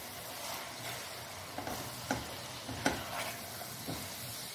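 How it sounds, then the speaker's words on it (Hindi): Minced meat with white cumin frying in a pan while being stirred, a steady close sizzle broken by a few sharp scrapes of the spoon, with no talking. "ये देखिए व्यूअर्स इस कीमे को हम अच्छे से भून लेंगे"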